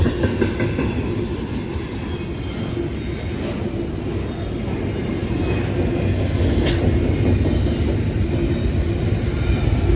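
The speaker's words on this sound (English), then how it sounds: "I knew there was a train coming." A train rolls past on tracks in Ohio, loud and close, with steady rumble, rhythmic clickety-clack of wheels and brief metallic squeals throughout, no talk.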